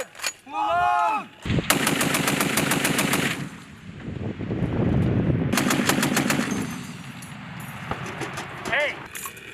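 An M2A1 heavy machine gun fires on a Marine range in two long, loud bursts of rapid shots, with shouted voices before, between and after.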